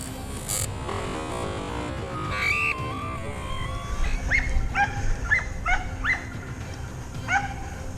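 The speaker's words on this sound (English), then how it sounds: "The hunting dogs fanned out, scouring the thickets to track down the wild boars" Hunting dogs tracking wild boar through thickets near a vineyard's edge, giving a series of short, high yips and whimpering barks in quick bursts over a low rumbling outdoor background, moderately close.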